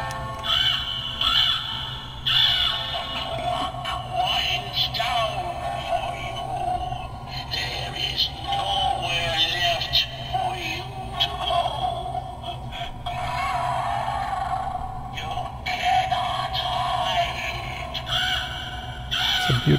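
A Halloween crow prop gives a string of raspy caws, sounding loud and close over a steady, noisy electronic drone that runs the whole time.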